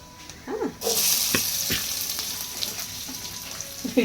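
Sliced onions dropped into a hot pan of oil burst into a loud sizzle that settles into steady frying, with a few light clinks of a utensil against the pan.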